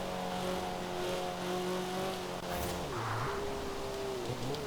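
A Honda Civic Type-R FK race car engine in Forza Horizon 4 drones steadily, its pitch dipping and rising again as it shifts, with a continuous roar and no talking.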